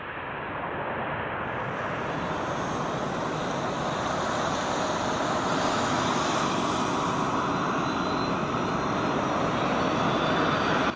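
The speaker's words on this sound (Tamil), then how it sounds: "ஈரான் ஜனாதிபதி கலானதி இப்ராஹிம் ரைசி விசேட விமானம் ஒன்றின் மூலம் இன்று காலை பத்து முப்பது அளவில் மத்தள விமான நிலையத்திற்கு வருகை தந்தார்" A special aircraft carrying a visiting president arrives at Mattala airport in Sri Lanka, its steady loud jet roar filling the whole stretch without pause.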